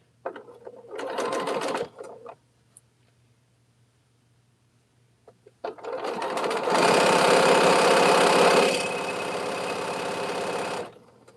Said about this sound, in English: and then I'm going to stitch in the ditch